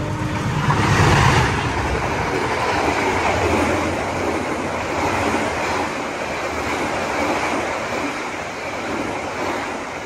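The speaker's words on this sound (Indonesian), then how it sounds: "Nah, ini kereta api Argo Bromo Anggrek full speed 120." Argo Bromo Anggrek express train passing at full speed, about 120 km/h: a loud, continuous roaring rush of wheels and wind, close and sustained for the whole stretch with a slight swell near the start, no talk.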